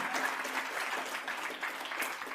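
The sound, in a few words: audience applause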